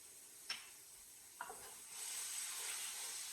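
Onions and spices sweat in a pan for crab cioppino, giving a soft, steady sizzle with two brief clicks early on, then a slightly louder hiss toward the end; no talking.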